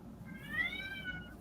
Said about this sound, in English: Oh, was that a kitty cat?